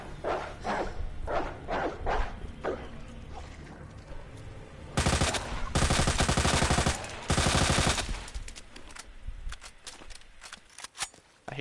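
Dogs attack amid rapid gunfire in Resident Evil 2 Remake, loud bursts of automatic fire in two long stretches, with scattered barks and thuds before and after.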